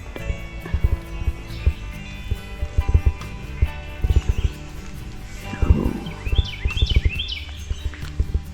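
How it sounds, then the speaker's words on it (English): Birds chirp and sing in short bursts in a park on a hike, over outdoor background noise and uneven thumping, with a cluster of brighter calls near the end. "The park ranger told us there was a lot of birds here, and we are hearing a lot."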